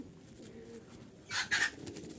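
Giribaz pigeons, a Rajshahi breed, cooing softly nearby, a couple of low murmuring calls followed by a brief louder burst.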